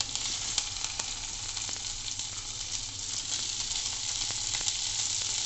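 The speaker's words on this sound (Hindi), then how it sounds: "इसके बाद हम डालेंगे इसमें भिंडी" Okra frying in hot oil with cumin and chilli for bhindi do pyaza, a steady dense sizzle with faint crackles, close and continuous throughout.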